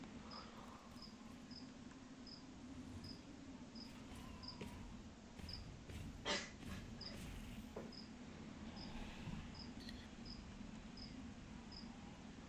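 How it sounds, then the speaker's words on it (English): Crickets kept as food for pet anole lizards chirp in faint, regular bursts, a steady rhythmic trill over a low background hum. "that's the crickets that Hedges has for his lizards"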